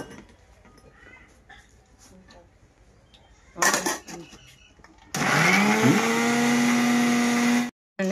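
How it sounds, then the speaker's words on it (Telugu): A short whir of a mixer grinder, then a loud, sustained high grinding roar that runs for seconds and stops abruptly; faint talk early on. "మిక్సీకి ఇంకా కొంచెం వాటర్ పోసేసుకొని మెత్తగా అయితే గ్రైండ్ చేసుకుందామండి"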